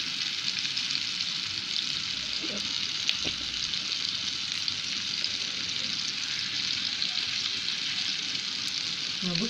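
Kofta meatballs frying in a shallow layer of oil in a pan, a steady soft sizzle holding evenly through the whole stretch, with a couple of faint knocks and no speech.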